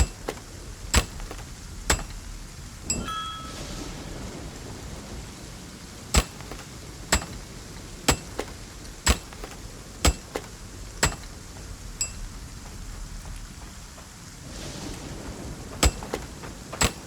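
Hammer smithing at a forge in the Viking survival game ASKA: sharp metallic strikes ring out one at a time at a steady, roughly one-per-second pace, loud and close over a low ambient bed, with a few short pauses.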